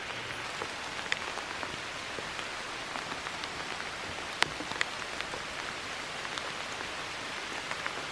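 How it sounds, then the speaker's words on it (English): Rain falling in a forest of old blueberry plants, a soft steady patter with scattered sharper drips hitting leaves nearby, quiet and continuous with no voices. "It's raining."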